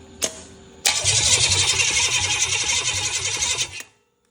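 An old Chevy 305 small-block V8, fitted with a new battery, cranks briefly, then catches and roars to life, running loudly and roughly for about three seconds before shutting off abruptly; a faint knock comes just before the start.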